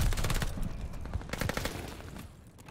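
Rapid automatic gunfire in the video game Call of Duty Vanguard, dense bursts of shots crackling close then thinning and fading toward the end, with no talk over it.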